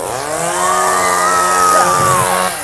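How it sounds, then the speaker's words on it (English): A chainsaw revs loudly up close during a clown's show, its whining pitch rising and holding steady before dropping off, with a crowd faintly audible beneath. "Show's going to feature a chainsaw."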